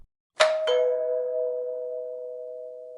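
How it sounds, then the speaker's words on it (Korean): A two-note ding-dong doorbell rings once, clear and fairly close, its second tone ringing out and slowly fading into silence. "초인종을 눌렀습니다."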